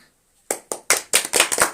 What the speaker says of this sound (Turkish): Evet alkışlayın.